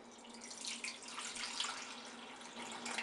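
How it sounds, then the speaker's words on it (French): A steady stream of cold water pours into a frying pan over raw sausages, a continuous close splashing rush with no talking. "Dans une poêle, je vais placer mes saucisses. Et je vais les couvrir avec de l'eau."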